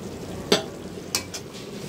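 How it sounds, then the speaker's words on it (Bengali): Spices, ginger-garlic paste and onion being stirred and sautéed in a pan, a low steady sizzle under a few sharp utensil scrapes and clinks; no talking. "ভালো করে মশলাটা কষাই নেব"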